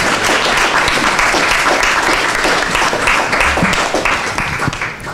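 Loud, dense applause from a conference audience for the foundation team behind a lecture series on society and ageing, sustained for about five seconds before tapering slightly at the end.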